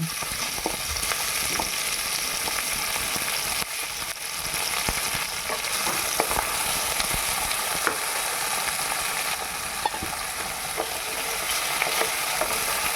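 Boiled pieces of jackfruit fry in oil with a dense, steady hiss that stays loud throughout, while scattered clicks and scrapes of a spatula knock against the vessel.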